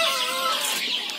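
Chickens cluck close by in a short burst of overlapping clucks and squawks, loud and busy with no talk.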